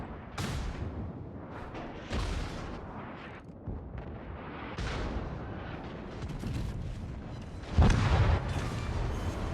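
Warship main guns fire in World of Warships, a series of heavy booming salvos spaced a second or two apart, loud and close, with a sharper blast near the end.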